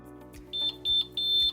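Three evenly spaced high-pitched electronic beeps from a heat press timer, fairly close, over a low background hum.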